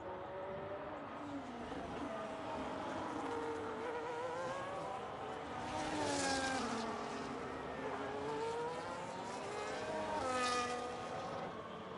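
A Ferrari race car in a racing video game screams through a lap with a high, whining engine note that rises and falls through gear changes, two louder passes standing out amid steady engine drone.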